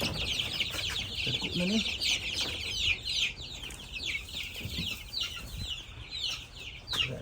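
Chicks on a farm peep and cluck in quick repeated bursts at moderate distance, with a person speaking briefly over the flock.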